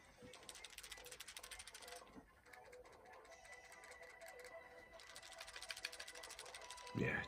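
An RG300X handheld game console shaken by hand in a rattle test, giving a fast, steady clicking rattle of loose internal parts like a box of matches, with a brief pause midway and a sharp knock at the end.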